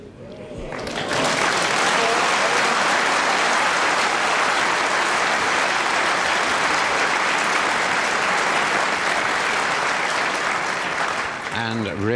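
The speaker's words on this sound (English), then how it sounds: "And Reardon applauds that brilliant snooker by the South African" A 1978 World Snooker Championship final crowd breaks into loud, sustained applause that swells within a second and holds steady for about ten seconds before easing off, with a commentator's voice faintly underneath.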